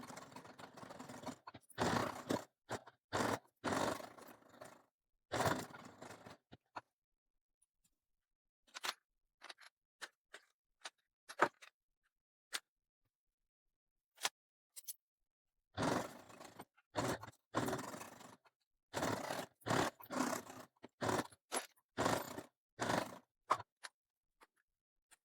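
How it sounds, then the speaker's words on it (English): A sewing machine bastes fabric with a 1/8 inch seam, running in close bursts of rapid stitching broken by quiet pauses and short clicks, louder runs at the start and again near the end. "we're going to the sewing machine and we're going to baste it with a 1/8 inch"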